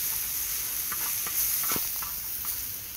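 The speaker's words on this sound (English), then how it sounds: "Veggies are cooking up good." Vegetables stir-fry in oil on a Firedisc cooker, a steady soft sizzle and hiss with scattered scraping stirs and taps of a utensil, close and fairly quiet.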